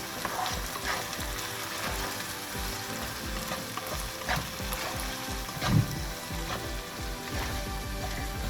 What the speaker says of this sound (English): Stir and mix all the spices together.